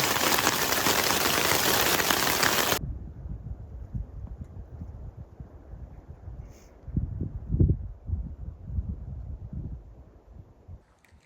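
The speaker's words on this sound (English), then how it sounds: "Just spending all of your time dodging rain." Steady, loud rain hiss for a few seconds on the Uinta Highline Trail. It cuts to a quieter stretch of wind rumble with soft low thumps.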